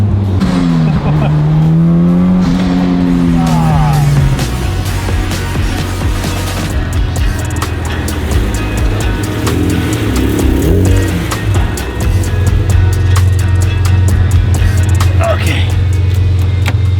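A supercharged Honda NSX accelerates hard, its engine rising in a strong, steady roar that stays loud and close from start to finish, with a brief tire squeal near the beginning.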